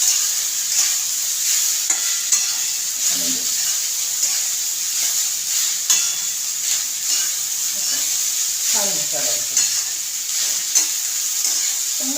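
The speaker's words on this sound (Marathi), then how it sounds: "परतत राहायचं थोडा वेळ" Vegetables sautéed and stirred in a thick cast-iron wok for seasoned rice, with a steady close sizzle of frying and repeated scraping stirs, a few louder spatula sweeps standing out, no talking.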